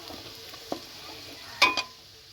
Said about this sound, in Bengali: পেঁয়াজ কুচি দেবো, লাল হয়ে গেছে।